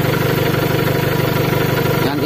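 A car engine idles close by with a rapid, even rhythmic throb, loud and steady before a brief change near the end.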